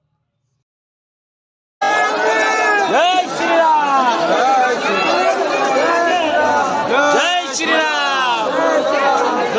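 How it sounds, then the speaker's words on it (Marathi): Large crowd of pilgrims near the Ram temple in Ayodhya, a dense continuous hubbub of many voices with chatter and occasional cheers, loud and close, starting abruptly after a short silence. "खूप प्रचंड गर्दी होती"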